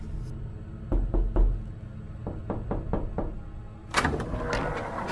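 Knuckles rap on a door in two bursts, first a quick trio of firm knocks and then a longer run of about five lighter taps, followed by a louder clatter as the door moves, all in a quiet setting.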